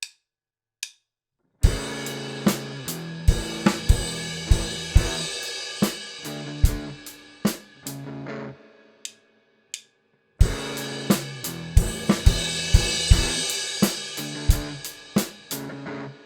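Crash cymbals ring out in the fade-out of a rock song: a run of sharp, bright crash hits over a loose rock drum groove, cut by brief silent gaps before the pattern resumes.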